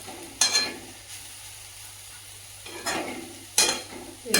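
Radish frying in a hot kadai, steady sizzle broken by three loud scraping stirs of a spatula, close up, with no speech.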